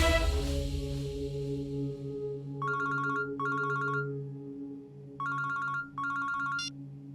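An electronic phone ringtone plays in four short bursts of bright, repeating tones, two pairs separated by a pause, over a low steady hum.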